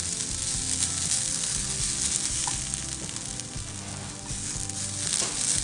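Grated coconut dry roasting in a dry pan gives a steady, close sizzle with occasional stirring scrapes, heard alone without talk.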